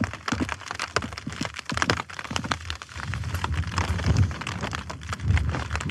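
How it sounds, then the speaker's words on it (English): Rain drums and patters on a tent pitched on an exposed mountain site in the Langdale Pikes, with wind-driven bursts, close crackling hits on the fabric and a steady low rumble throughout. "Raining."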